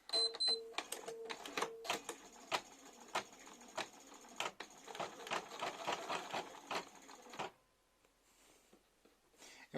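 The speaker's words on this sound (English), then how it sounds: "Now it's going to stitch my placement line." A Bernina B590 embroidery machine stitches a placement line in quick, uneven bursts of close mechanical tapping and whirring, then falls quiet near the end.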